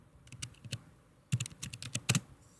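Someone types a router configuration command on a computer keyboard, producing short bursts of quick close key clicks separated by brief pauses, with a louder flurry near the end.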